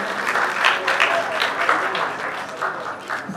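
Lively applause from an audience welcomes an award recipient at a Punjabi book prize ceremony, a sustained crowd of clapping hands that swells and dips in waves, with voices faintly mixed in.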